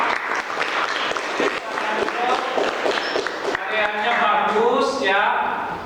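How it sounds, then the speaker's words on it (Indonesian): A classroom of students claps for a student group, uneven clapping that builds into denser applause, mixed with voices and chatter throughout. "Kasih tepuk tangan dulu buat kelompok 2 ya."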